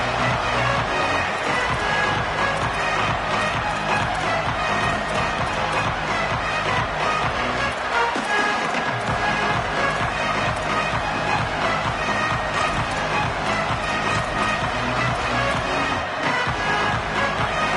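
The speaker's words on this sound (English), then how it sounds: "This crowd going to try to make life miserable for these guys." Dense, steady stadium crowd roar in a football video game, a continuous loud wash of cheering and noise that never lets up, heard alone without commentary.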